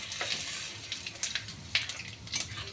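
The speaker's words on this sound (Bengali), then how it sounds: "তারপর আমি ওই তেলের মধ্যেই জিরা, তেজপাতা আর শুকনো লঙ্কা সোমবার দেবো।" Cumin, bay leaf and dried chili crackle in hot oil with a soft continuous sizzle, punctuated by several quick spattering pops and light stirring scrapes; no voices.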